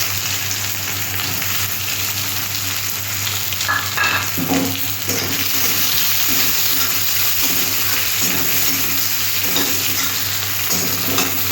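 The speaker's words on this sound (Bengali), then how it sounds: "পেঁয়াজটা একটু ভাজা ভাজা করে নেব" Onions frying in hot oil in a pan with dry red chilli, bay leaf and five-spice tempering, a steady close sizzle with light stirring scrapes throughout, no talking.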